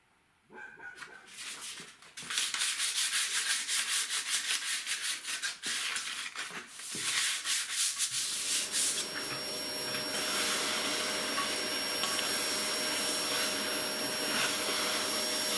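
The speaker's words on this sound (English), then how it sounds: "I'm going to use some coarse 80 grit to remove most of this rust" Coarse 80 grit sandpaper rubbing rust off a log burner flue, loud rhythmic scraping strokes that give way to a steady roaring hum, with a dog barking now and then.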